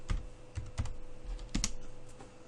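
Commands typed into a Windows command-line terminal on a computer keyboard, a handful of distinct close keystrokes spaced irregularly over a low steady hum, with no voices.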